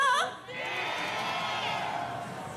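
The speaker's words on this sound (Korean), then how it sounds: "다 같이 힘찬 함성 한번 지를까요?" At a citizens' rally in Busan, a crowd lets out a loud, sustained collective shout and cheer, following a brief voice at the very start and holding strong and steady to the end.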